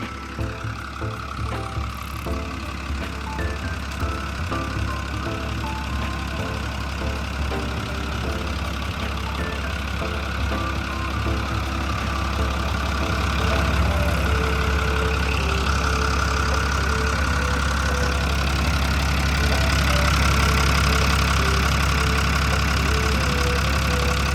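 A Sakai TS150 pneumatic-tyre road roller's diesel engine idles steadily at close range, a deep continuous rumble with a faint knocking rhythm, slightly louder toward the end. No one speaks.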